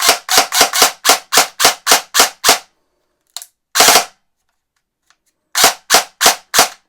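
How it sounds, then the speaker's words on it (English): ICS CES-P MP5 airsoft gun with a noisy gearbox firing: a rapid burst of about nine sharp cracks, then a lone shot, and a closing burst of four, loud and close with silent gaps. "That is such a noisy gearbox."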